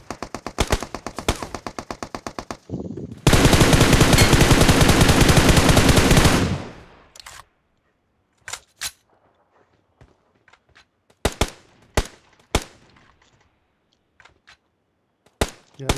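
PUBG battle-royale gunfire, loud and close: a rapid automatic burst, then a dense sustained volley, then scattered single shots and short bursts separated by quiet gaps.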